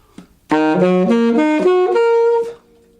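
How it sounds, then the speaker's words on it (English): A saxophone plays a minor arpeggio alone, a short sequence of clear sustained notes stepping up one after another, then fading out. "So just to be clear about this, the minor arpeggio would sound like this."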